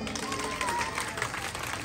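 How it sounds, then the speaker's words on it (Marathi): A crowd of women at a Dahi Handi celebration in Dehu Road claps steadily, a dense continuous patter of many hands held at a fairly even level for the whole short stretch, with faint melodic tones underneath. "काय झालंय जरा सगळ्यांच्या जोरदार टाळ्या वाजवा बरं"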